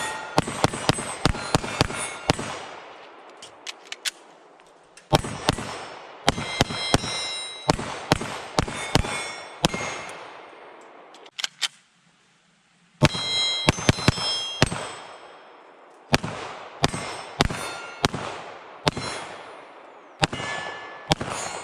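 Canik Rival-S steel-frame 9mm pistol fired in rapid strings of sharp, loud cracks with ringing echoes, in several bursts separated by brief pauses.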